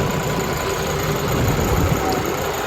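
A tractor engine runs steadily at idle-like speed, a loud, continuous low rumble and vibration heard close up and alone, without talk or changes in pitch.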